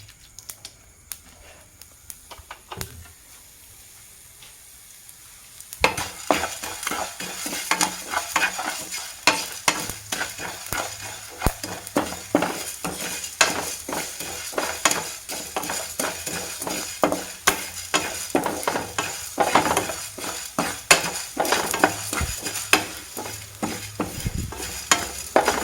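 Cumin and spices frying in oil for a Bangude mackerel fish curry, a quiet start giving way to dense, continuous crackling and spitting with rapid irregular pops throughout, close and fairly loud.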